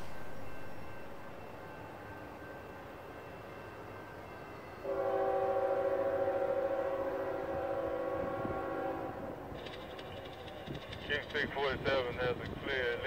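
Freight train Q647, out of the BRC Clearing Yard in Chicago, passes with a sustained rumble, a steady horn blast and rising wheel and rail noise near the end, loud and fairly close.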